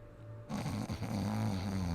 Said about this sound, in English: And he's snoring, which is almost worse.